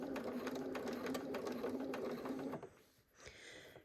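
A sewing machine stitches a Drunkard's path quilt block with a 1/4 inch seam, running steadily and close for about two and a half seconds before stopping, followed by faint handling noise.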